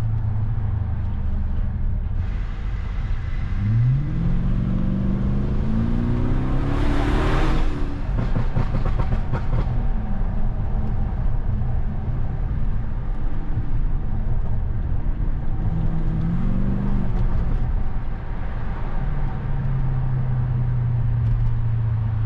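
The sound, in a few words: BMW 750i V8 car driving in city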